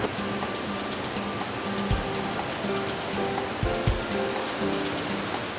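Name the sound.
waterfall, falling water at Mesa Falls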